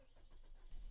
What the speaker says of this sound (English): Car started fine, no problem.